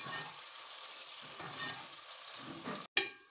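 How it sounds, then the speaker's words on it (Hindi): Finely chopped onions sizzle steadily in hot oil, a close continuous frying hiss with soft stirring, ending in a brief gap and a louder burst of sizzle. "अब मैं इस प्याज को लाइट ब्राउन करूंगी"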